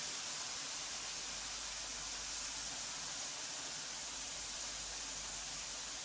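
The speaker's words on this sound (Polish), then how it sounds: "I smażę po około 2 minuty" Pork tenderloin sizzles while frying in a pan, a dense, steady hiss of hot fat that stays even and close throughout with no talk.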